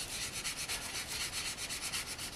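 Sanding stick rubbed over a primed resin anime figure, a soft, fast scratchy rasp in a continuous back-and-forth rhythm, close but quiet, with no talk.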